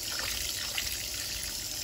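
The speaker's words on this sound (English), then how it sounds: "I also add a little bit of water just to blend it in with the lemon juice and the vinegar" Water poured into a lemon juice and vinegar marinade for baked barbecue ribs, a steady hissing trickle running continuously and close without pause or talk.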